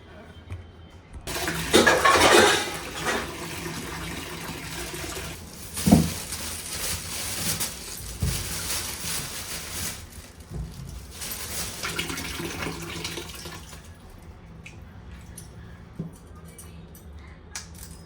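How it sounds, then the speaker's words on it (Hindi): Vegetables washed by hand in a basin of water: splashing and sloshing come in bursts with a short knock, near and moderately loud, then a quieter stretch of light trickling. "अभी मैं सारा सब्जी को करूँगी क्लीन अच्छे से पानी इसमें धो के"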